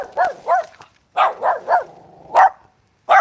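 Dog barking in sharp separate woofs, two quick barks, a pause, then a run of three and two more spaced barks, loud and close with a low whimper between.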